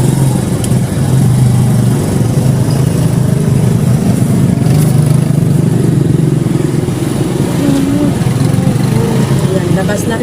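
Several motorcycles idle and pull away from a school campus onto a busy road, a steady close engine clatter and drone with traffic noise, while people talk over it.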